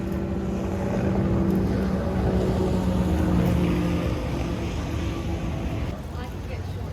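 Powerful 1,000-horsepower high-performance ski boats practise along the Murray River at Echuca during Southern 80 week. Their engines make a steady, loud, droning roar that holds for the whole stretch, with faint voices in the background.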